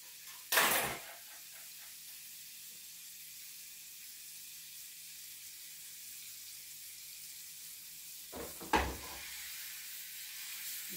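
Garlic dropped into melted butter in a pan sizzles in two loud bursts, first near the start and again near the end, with a steady low hiss of frying between them.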